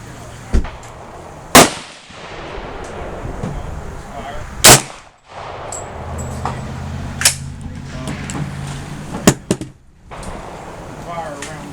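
A New Frontier AR 45 rifle fires several sharp single shots spaced a few seconds apart, loud and close, with people talking between the shots.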